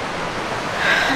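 Ocean waves on the beach at San Onofre, California, a broad steady wash of surf swelling slightly louder toward the end, close and without talk.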